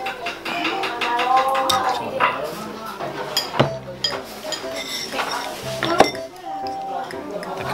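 Food with cabbage, soy sauce and chili is stirred in a bowl, with clinks and scrapes of a utensil against the dish coming in bursts while a person talks.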